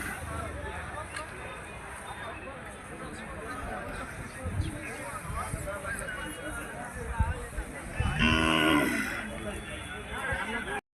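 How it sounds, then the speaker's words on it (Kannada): Bullocks and cattle low now and then across a busy livestock fair in Karnataka, heard under steady crowd chatter, with a louder burst of noise near the end. "ಒಳ್ಳೆ ಕೆಲಸದ ಎತ್ತುಗಳು ಅದಾವ ನೋಡ್ರಿ ಇಲ್ಲೆಲ್ಲ."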